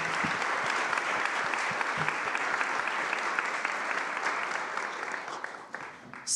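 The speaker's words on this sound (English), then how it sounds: "One more round of applause for the documentary." A seated audience at a panel talk on green gentrification applauds a documentary, steady dense clapping filling the room for about six seconds and tapering slightly near the end, with no speech over it.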